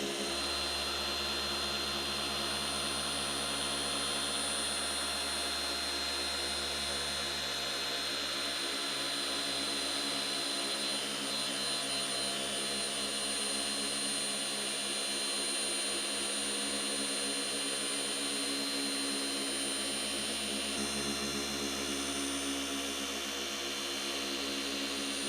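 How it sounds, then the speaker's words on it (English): A car paint polishing machine with its pad spinning drones in a constant, even whine for the whole stretch, steady and unbroken with no voices. "now you can hear the load of the machine. The pad is still spinning"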